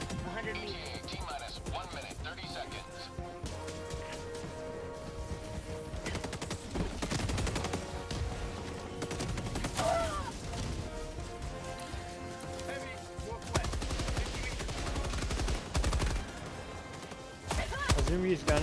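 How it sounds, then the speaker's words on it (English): Rapid machine-gun fire in the co-op shooter Helldivers 2, dense rattling bursts and explosions running continuously under several people talking. "He means the heavy armor piercing machine gun."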